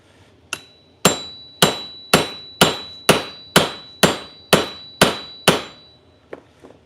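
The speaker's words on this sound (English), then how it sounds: "Man, I look crazy hammering this on here." Sharp metallic hammer blows drive a part onto a bike frame during a trail bike build, about ten evenly spaced loud strikes with ringing decay, followed by a couple of faint taps.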